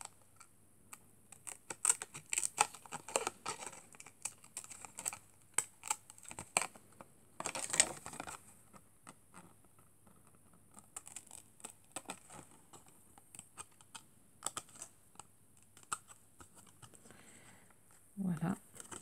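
Scissors snipping around a plastic-laminated bookmark made with wooden stamps, a series of quiet, irregular cuts and crinkles close by, with soft talking at times and a brief louder rustle near the end.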